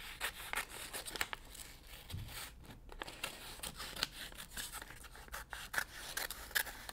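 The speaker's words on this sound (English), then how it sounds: "I'm just going to use my scissors to cut that away" Scissors snip through stiff vinyl backing paper, a series of close crisp cuts and scraping rubs with short pauses between them.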